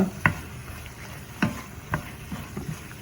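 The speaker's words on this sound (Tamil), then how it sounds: "அதையும் வந்து இப்படி வடிவாக கிளறி விடுங்கோ" Chicken butter masala with a squeeze of lemon juice is stirred in a pan, giving sparse, fairly faint scraping and wet clacking strokes at irregular intervals over a soft background hiss.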